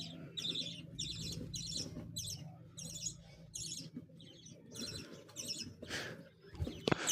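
Budgerigars in a cage chirp in quick, bright bursts of chatter, repeating every half second or so at a fairly faint level over soft rustling and background hum.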